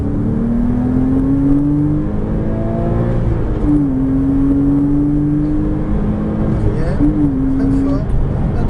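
A Porsche Cayman S engine at full throttle on a racing circuit, revving loud and close with rising pitch sweeps from gear changes, and an instructor's voice talking over it throughout.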